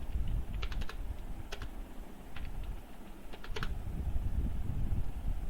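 Fast clattering keystrokes on a computer keyboard, typed in short bursts over a steady low room hum, close and clear, with no voices.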